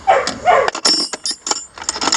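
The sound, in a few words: dog barking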